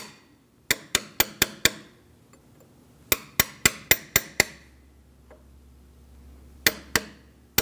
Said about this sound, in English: gently use a punch and just give it a little tap